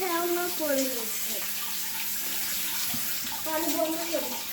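Water runs from a tap into a bucket with algae built up inside, a steady splashing rush that is close and fairly quiet, with a voice talking before and after it.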